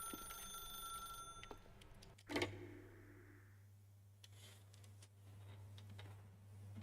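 A telephone rings inside The Stanley Parable video game, a bright repeating electronic ring heard up close above a steady low hum, with one louder burst partway through.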